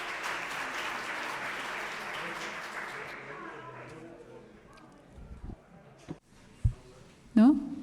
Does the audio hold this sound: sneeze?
no